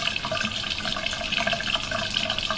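Running water rinses a makeup brush under a tap during cleaning with a brush cleanser, a steady splashing stream with small gurgles throughout, close and alone.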